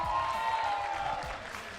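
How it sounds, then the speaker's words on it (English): An audience at the TGR GT Cup Asia Finals 2024 event claps for visiting representatives, a dense, steady patter of hands that fades slightly toward the end, with a sustained musical tone running underneath. "Let's give them a big round of applause."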